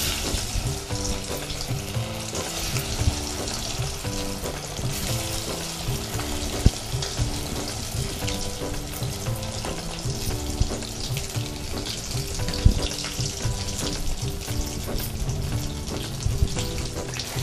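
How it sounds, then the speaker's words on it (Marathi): Mashed potato sautéing in hot ghee in a kadhai for batata shira gives a steady, continuous sizzle and stirring hiss throughout, with no talk and what seems to be tonal background music underneath. "आता आपलं हे तूप तापलेलं आहे, आपण तुपामध्ये हे घालूयात आणि परतून घेऊयात."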